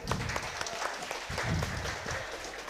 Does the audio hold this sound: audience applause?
yes